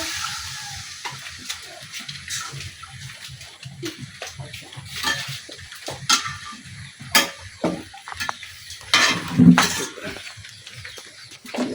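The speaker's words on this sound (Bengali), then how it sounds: "পেঁয়াজ রসুন আদা খুব ভালোভাবে বাজিয়ে নিচ্ছি।" Onion, garlic and ginger fry with spices in a pan for a pangas fish head and taro stem dish, giving a close sizzle broken by stirring scrapes and splashy bursts that grow busier toward the end.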